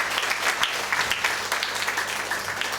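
An indoor audience at a spiritual class gives steady, dense applause that carries on without a break, close and fairly loud.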